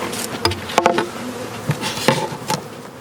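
Honeybees buzz around small overwintering nuc colonies sitting on a double screen board, steady close buzzing broken by several sharp passes and knocks, with no voices.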